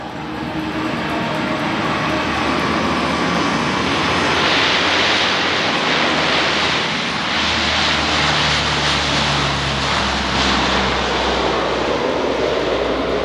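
Lockheed P-3 Orion with four Allison turboprop engines of 4,600 shaft horsepower roaring past overhead, a loud continuous propeller drone that swells toward the middle and stays strong throughout, with no talk.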